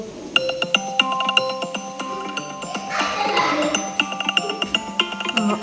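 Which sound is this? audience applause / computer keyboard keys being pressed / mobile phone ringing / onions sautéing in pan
mobile phone ringing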